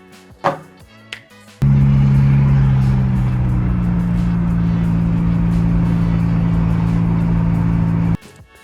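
A car in a 30-to-60 roll race on an interstate accelerates hard. After a couple of dull knocks, a loud, steady engine drone surges in and holds for about six seconds before cutting off abruptly, with no talking.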